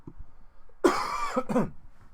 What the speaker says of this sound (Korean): 어, 기침이 나지?